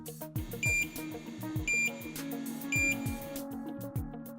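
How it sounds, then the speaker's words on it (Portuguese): An electronic beep sounds three times at a steady pace, each short tone clear and fairly loud over a low, busy mechanical hum. "Novamente, um bip sonoro é acionado por 3 vezes"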